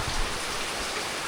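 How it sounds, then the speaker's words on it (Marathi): Heavy monsoon rain pours down outdoors in the Konkan countryside, driven by wind, as a dense, steady hiss with no letup. "बाहेर मस्त पाऊस पडतो आहे"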